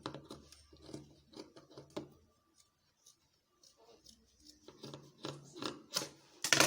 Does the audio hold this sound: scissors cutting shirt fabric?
yes